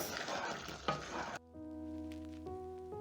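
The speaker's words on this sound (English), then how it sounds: "Stir in the coriander and everything is ready" Coriander is stirred into a bubbling vegetable stew in a pot, a short burst of close sizzling and spoon scraping that cuts off abruptly, followed by a quiet, steady tonal hum.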